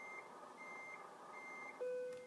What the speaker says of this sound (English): Let's get it out of reverse and get rid of that beeping.